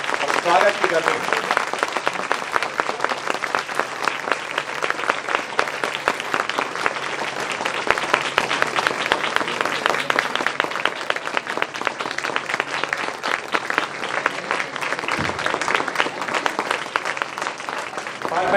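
Thunderous applause from a large audience at a university induction programme's valedictory session, marking Doordarshan Day; dense, sustained clapping fills the whole stretch, loud and steady, with a brief lull near the end.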